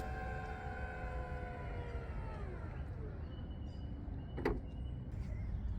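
The power tailgate of a 2024 Toyota bZ4X electric SUV closes with a quiet electric motor whine that sinks in pitch as it travels, then a short, sharp latching clunk near the end, all faint and close.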